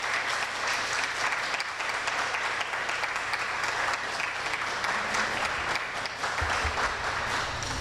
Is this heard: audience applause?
yes